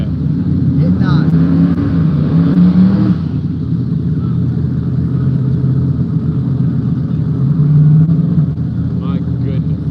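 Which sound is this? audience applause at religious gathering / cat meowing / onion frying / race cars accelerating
race cars accelerating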